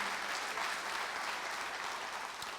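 A church congregation claps steadily as an offering to the Lord during a sermon, a dense wash of applause at even volume throughout.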